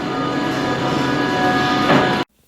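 A passenger train heading into Berlin from the port hums and rumbles steadily from inside the car, with a tonal whine and faint rhythmic rattling before the sound cuts off abruptly.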